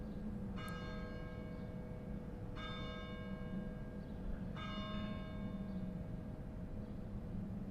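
Church bells ring out in three separate strikes, each about two seconds apart, with a bright metallic ring that fades away. A steady background hum runs underneath, and no one speaks.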